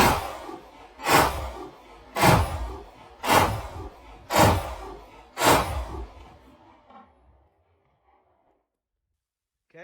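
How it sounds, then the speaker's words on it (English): An HK CC9 pistol fires in a string of sharp, evenly spaced reports, each ringing out with a long decay. The shots come at a slowed pace, then fall silent with no talking. "I'm just going to do 6 rapid fire here"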